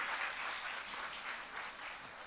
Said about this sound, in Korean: 미리 박수 한번 쳐주세요.